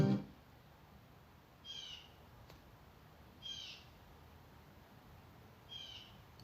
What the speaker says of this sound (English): Do y'all hear how loud that bird is?